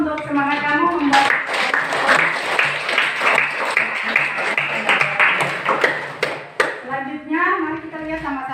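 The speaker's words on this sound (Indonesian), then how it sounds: "Kita kasih aplaus dulu untuk semangat kamu membuat." Applause for a student's effort, dense steady clapping from a group sustained throughout, with voices talking over it at the start and end.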